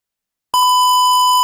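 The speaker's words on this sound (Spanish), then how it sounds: "aquí tenemos el sonido de la alarma que el acceso es concedido" Electronic safe built on an ESP32 with a display gives an access-granted signal: a single steady, loud electronic beep tone that starts abruptly and holds for about a second, alone with no voices.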